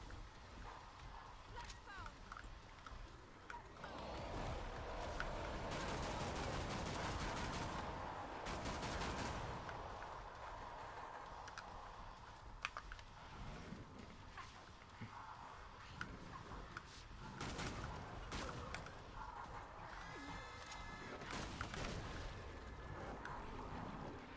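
Gunfire in the video game Killing Floor 2 cracks out in rapid bursts and scattered single shots, mixed with game noise and a player talking over the action.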